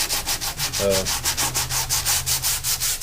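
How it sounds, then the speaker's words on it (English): A textured surface is scuffed up by hand before painting, producing steady, close rhythmic rubbing strokes, roughly four per second, with a brief faint squeak partway through. "you just take it, scuff it up a little bit."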